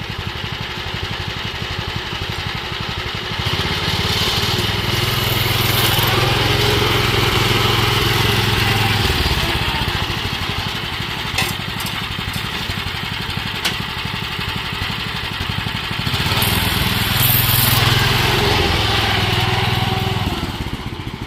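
A lawn tractor converted into a go-kart after a pulley swap drives forward under an extra 100 to 150 pounds of load, its small engine droning steadily and loudly throughout, rising in pitch at a few points, with no talking.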